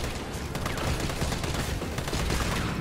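Rapid gunfire from the Resident Evil 3 Remake video game during a fight with Nemesis, a dense continuous barrage filling the whole stretch with no talk.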